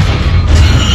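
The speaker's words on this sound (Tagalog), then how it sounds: "Sa gitna ng mga pagsabog at barilan" Explosion rumble in a Transformers movie battle scene, a loud continuous deep boom with heavy low-end roar filling the whole moment.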